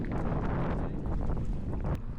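Steady wind roaring across the microphone while cycling through Amsterdam, a dense continuous rush with gusty swells and no talk.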